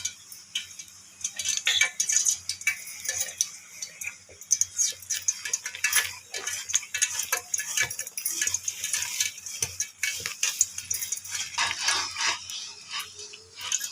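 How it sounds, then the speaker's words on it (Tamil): A sugar and gram flour mixture for Mysore Pak being stirred in a pan, with steady quick ticking and scraping strokes of a spoon against metal throughout, close and fairly faint. "சக்கரை மாவும் கடலை நல்ல விடாமல் கை விடாமல் கிண்டிக்கிட்டே இருக்கும்"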